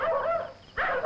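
Several dogs bark and yelp in quick bursts, close and fairly loud, with a short pause between two runs of barking in a Malayalam comedy film scene.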